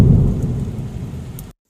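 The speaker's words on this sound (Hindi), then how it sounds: "उनके घर पर आते ही भयंकर बारिश शुरू हो गई" Heavy rain pours down steadily with a dense low rumble of thunder underneath, loud and continuous from start to finish before cutting off abruptly.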